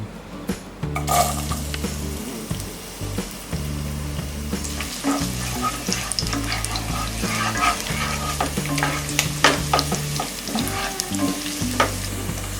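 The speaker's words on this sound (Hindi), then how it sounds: "तेल गरम होने के बाद हम डालेंगे ये गार्लिक" Garlic hitting hot oil in a pan for homemade pizza sauce, a steady close sizzle with stirring clatter and light clinks of utensils against the pan, with tonal music running underneath and no voices.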